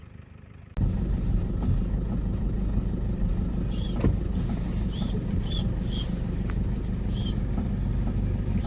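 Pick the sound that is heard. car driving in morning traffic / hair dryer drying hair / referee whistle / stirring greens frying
car driving in morning traffic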